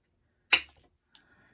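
A single sharp scrape as a tool scores a line across paper for a faux envelope, followed by a faint small tick and near silence.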